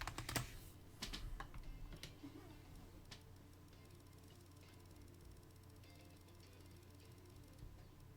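Typing on a computer keyboard, a quiet run of close key clicks and taps, busier at first and then thinning into a soft steady patter, with a faint background hum.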